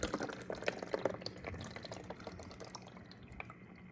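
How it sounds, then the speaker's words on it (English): A newly set up home aquarium filter switched on with the tank filled to the fill line, pulling in water and priming itself: close gurgling, dripping and trickling water with uneven splashy bursts that gradually settle. "That noise you heard initially was it pulling the water in and filling up the bay and priming itself"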